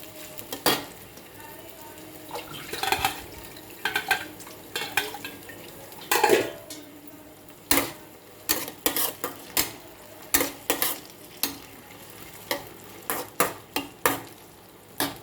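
Tomato and onion fry in a pan, with a faint sizzle beneath repeated sharp scrapes and taps of a spoon against the metal in an irregular stirring rhythm, close by.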